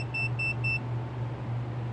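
A car's push-start system gives three short, quick electronic beeps, close and clear, over a faint steady low hum inside the cabin.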